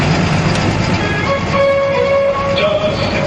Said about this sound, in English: Here's that train, watch out.